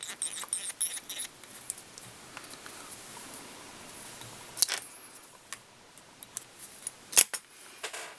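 Scissors snipping tying thread at a fly-tying vise while making a Glo Brite Rhyacophila pattern, a few short, faint clicks and snips scattered over a quiet background with light handling noise.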